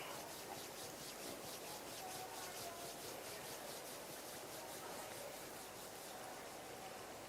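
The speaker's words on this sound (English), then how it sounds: "bring the palms of your hands together at chest level. Rub them gently against each other." Palms of hands rub gently together during a meditation session, making a soft, steady, faint swishing friction that continues unbroken.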